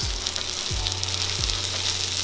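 Bread toasts on a hot griddle for a bison patty melt, giving off a steady, close sizzle that holds at an even level throughout with no talking.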